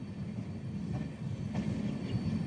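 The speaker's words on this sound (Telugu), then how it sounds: "చాలా స్లోగా స్కిప్ కొడుతుంది బండి." The Amrit Bharat Express rolls slowly past Surareddypalem station on its inaugural run, a low, steady rumble of wheels and carriages with faint rail clatter, heard from inside the train.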